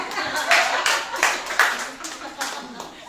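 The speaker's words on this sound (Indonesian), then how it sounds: "Clap for her. Clap for her." A congregation claps for a woman in uneven bursts of hand claps, fairly close, while people talk over the clapping.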